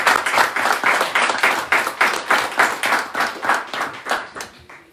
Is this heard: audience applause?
yes